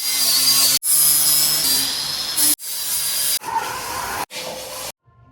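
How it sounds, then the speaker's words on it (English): Rusty van metal being sanded by hand with sanding paper, close and loud, in several separate rasping bursts broken by brief pauses, with no talking. "we decided to go with the sanding paper, and it worked quite well"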